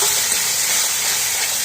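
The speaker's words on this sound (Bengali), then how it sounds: "চলো এটাকে কষিয়ে নিই" Chicken kofta masala with turmeric, salt, cumin and coriander powder sautéing in a pan, giving a loud, close, continuous hissing sizzle with no talk.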